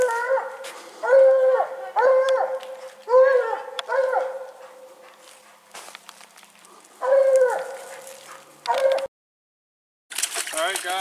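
Coonhounds bay and howl outdoors at a raccoon treed high in the woods, repeated drawn-out howls coming in bursts with pauses, loud and fairly near, with a brief silent gap near the end.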